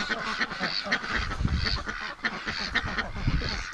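A Muscovy duck honks and hisses in a rapid string of harsh, breathy calls, close and fairly loud, with no talking.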